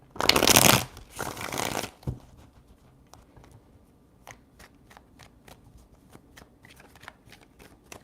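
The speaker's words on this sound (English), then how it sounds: "Three shuffles." Tarot cards shuffled close up in two quick crackling bursts lasting under a second each, then light taps and soft clicks as the deck is handled.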